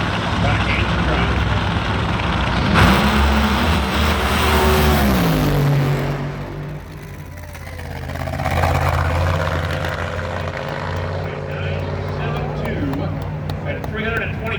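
Ford and Chevrolet drag racing cars at a New England Nationals drag race roar off the line with loud engine revving that fades, while an announcer calls the action over the noise.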